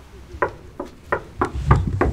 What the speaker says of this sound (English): Okay, you wanna knock?